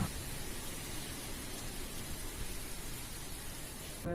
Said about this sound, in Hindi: किस तरह से हवा चल रही है और किस तरह से तेज बारिश हो रही है